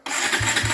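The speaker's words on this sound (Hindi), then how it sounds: "फिलहाल मैं अभी बाइक स्टार्ट दे रहा हूँ।" A motorbike engine starting on a cold day in rural Assam, cranking briefly and then catching into a steady, close running note.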